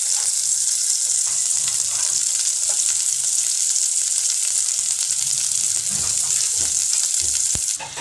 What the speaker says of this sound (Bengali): এভাবে ভেজে নিচ্ছি লাল লাল করে